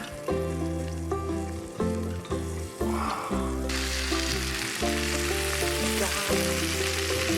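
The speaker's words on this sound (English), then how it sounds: "a super rare treat of a T-bone steak, cooking in just a little butter" T-bone steak cooks in a little butter in a pan, a steady close sizzle and spatter running throughout beneath layered background music.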